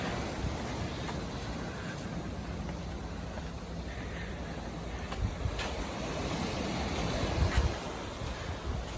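Steady ocean surf rolling below a rocky seaside spot with crystal-clear water, a constant broad wash of breaking waves mixed with wind noise, occasional slightly louder surges, no talking.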